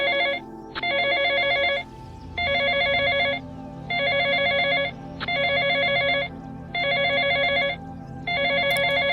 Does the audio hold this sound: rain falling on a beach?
no